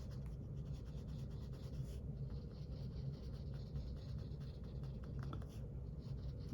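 A Wink of Stella brush pen makes soft, close scratching strokes on paper in short repeated passes, faint and steady, with no voices.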